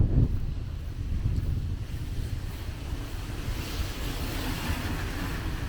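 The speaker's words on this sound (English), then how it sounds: "Got a blast of wind right in my face" Wind gusts hit the microphone outdoors on a snowy street walk, a loud rumbling buffet at the start that settles into steady, low roaring wind noise with no talking.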